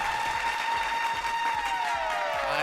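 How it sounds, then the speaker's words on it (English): An audience claps together in a live talk-show studio, a dense steady patter of applause lasting the whole moment, with a sustained tone and faint background sound under it. "Clap it up for everybody for being here."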